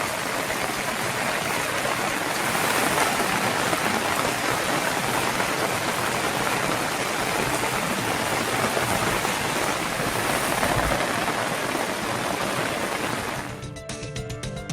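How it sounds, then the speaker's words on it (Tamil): Early-morning rain falling across a district in Tamil Nadu on New Year's Day: a steady, dense hiss of rain on surfaces holds evenly and fairly quietly throughout, with no voices. "திருவண்ணாமலை மாவட்டத்தின் பல்வேறு இடங்களில் புத்தாண்டு அதிகாலையில் மழை பொழிந்தது."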